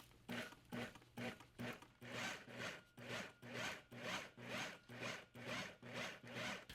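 A food processor pulses garlic herb butter in a steady run of short, even motor bursts, about two per second, close and fairly loud with no talking.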